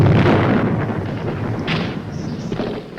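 Heavy gunfire and booming blasts in a Vietnam War setting roll together into a dense, loud rumble with sharper cracks scattered through, no talking.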